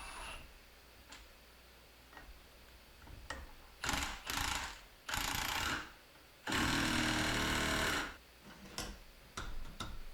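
An impact wrench tightens a nut on a Kubota B2150 hydraulic cylinder, firing in several short hammering bursts and one longer two-second run, close and loud against a quiet shop with faint ticking between.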